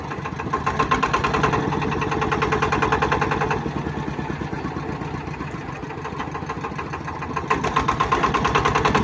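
A 4x4 Tora Tora vehicle's engine runs steadily on a road test, including a hill climb, with a loud, close, rhythmic chugging throughout and a slight rise in intensity near the end.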